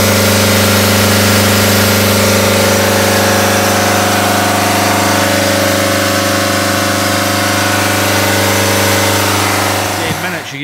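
The 2.0 diesel engine of a 2013 Nissan X-Trail with sluggish, poor performance runs at a steady high idle, a loud, constant drone with a strong low hum that stays unchanged nearly the entire time.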